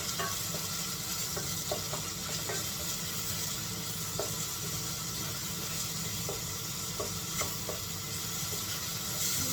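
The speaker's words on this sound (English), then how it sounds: "Continue to stir for like 5 to 6 minutes." Mushroom curry sizzling steadily in a pan while being stirred, a constant close frying hiss with occasional soft scrapes and taps of the spoon, no voices.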